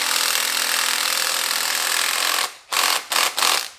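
An impact wrench tightens the nut on a car strut: a long, loud, steady buzzing run, then a sudden stop followed by three short hammering bursts.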